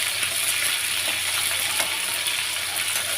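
A whole fish fries in oil over a full gas flame, making a steady, dense, close sizzle with no voices.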